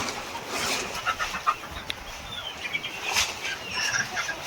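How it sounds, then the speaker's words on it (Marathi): A rooster clucks in short, scattered bursts nearby against a quiet outdoor background. "हा कोंबडा आहे एवढा मोठा कोंबडा आहे"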